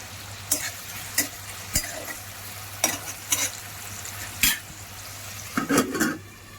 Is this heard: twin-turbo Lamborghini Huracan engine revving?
no